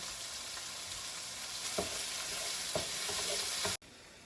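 Chicken sizzling steadily in a hot pan with ginger and scallion whites for hoisin honey chicken, with a few soft scraping stirs partway through before the sound cuts off abruptly near the end.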